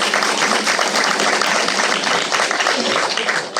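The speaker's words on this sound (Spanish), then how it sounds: "un aplauso para ella" Steady applause from a live audience at a podcast event in Aragón, dense continuous clapping filling the whole stretch at an even level and fading slightly at the very end.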